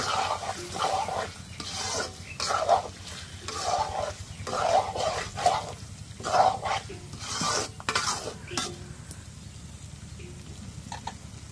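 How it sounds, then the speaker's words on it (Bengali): Broiler chicken pieces tossed into sizzling masala in a pan for khichuri, giving rhythmic bursts of clattering, scraping and hissing as the meat is stirred, easing off toward the end. "এখন মাংসগুলো দিয়ে দিই"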